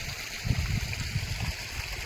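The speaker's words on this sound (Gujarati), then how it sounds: "હાલો તો પાણી ચાલુ છે" Water gushing from a pipe onto a farm field, a close, continuous low rushing and gurgling with uneven splashy pulses and no speech.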